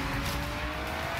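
An Aston Martin V12 Zagato slides through a skid in the Forza Horizon 3 racing game, giving a steady, loud wash of engine roar and tire noise for just over a second, with no voices.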